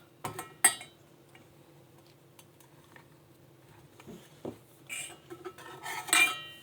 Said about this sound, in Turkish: Kaşıkla böyle elmaların her tarafına veriyoruz arkadaşlar.